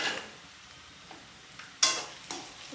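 Ingredients for a chicken dish sauté in a pan, with faint sizzling and a few sharp scraping stirs of a utensil against the metal, close by and without speech.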